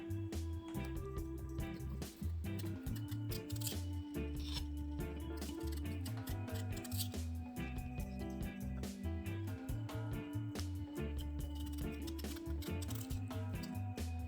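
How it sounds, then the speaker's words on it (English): A knife slices a potato paper-thin on a cutting board in a rapid, steady run of crisp chopping taps, close and continuous, under low background music. "Slice the potato very thin, like paper thin."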